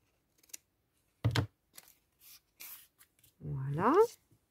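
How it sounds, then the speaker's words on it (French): Scissors snip small paper corners for a junk journal pocket, giving a couple of short, crisp close cuts among quiet handling noises, with someone speaking at the end. "On peut couper les petits coins."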